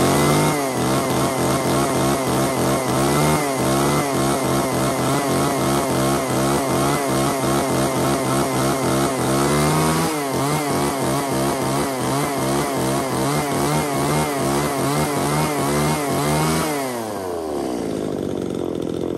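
A chainsaw runs loud and close with a steady buzzing drone, its pitch dipping and rising through several revs before winding down near the end.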